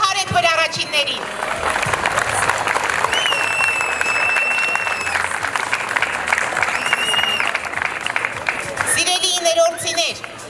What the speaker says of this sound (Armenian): Ծափահարենք մեր առաջիններին